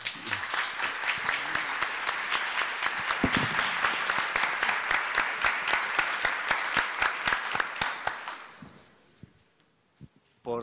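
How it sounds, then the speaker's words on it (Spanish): An audience at the opening of the CIMODE 2016 fashion design conference claps in a strong, even rhythm for about eight seconds before it thins out and fades, and a voice begins at the end. "Voy a pedir un aplauso por ellos."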